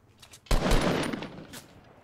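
Burst of Fortnite video-game gunfire, a loud close volley of rapid shots that starts abruptly and trails off into rattling echoes, with a fainter shot near the end.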